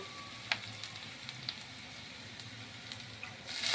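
Spinach greens going into a frying pan of onions fried until reddish-brown, giving a soft, steady sizzle with scattered crackles and pops that swells louder at the very end.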